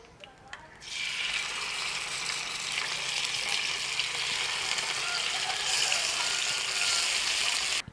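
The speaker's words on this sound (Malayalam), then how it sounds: "ബാക്കി 2 പീസും കൂടി നമുക്ക് വറുത്തെടുക്കാം." Pearl spot fish (karimeen) shallow frying in hot oil give a steady, bright sizzling hiss that holds unbroken for several seconds, close and fairly loud.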